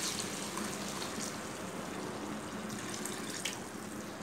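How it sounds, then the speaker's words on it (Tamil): Water being poured into a pan of Kerala-style chicken curry, a steady soft rushing splash that runs unbroken throughout, fairly quiet and close with no voices. "நம்ம இப்ப தண்ணி ஊத்தி ரொம்ப தண்ணி வேண்டாம்"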